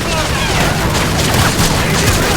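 Heavy gunfire from the shooter game Call of Duty Modern Warfare 3 fills the scene with dense, loud bursts and booms in rapid succession, and a voice talks under the noise.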